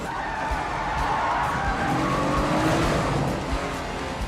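An Audi S8 in the Paris opening car chase of the film Ronin, its tires squealing in a long continuous screech over a roaring engine, loud and sustained.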